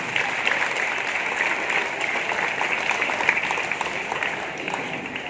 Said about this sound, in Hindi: उनके लिए एक बार जोरदार तालियां होनी चाहिए